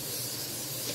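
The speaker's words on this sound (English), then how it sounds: "I'm just going to have her spray it real good so the biscuits won't stick" Cooking spray hisses steadily from an aerosol can onto a cookie sheet in a home kitchen while biscuits are being prepared, a close, continuous spray lasting under a second with no talking.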